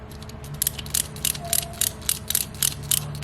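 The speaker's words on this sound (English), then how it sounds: "We're gonna put these screws back in how we took them out." Small screws are turned back into the lid of a Style Craft Pro Absolute Hitter hair clipper with a hand tool, a close run of quick, evenly spaced ratcheting clicks over a faint steady hum.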